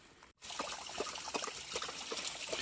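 Running water trickles and splashes along a mountain backpacking trail near Mt Mitchell, a close, quiet burble with small gurgling bursts after a brief dropout at the start.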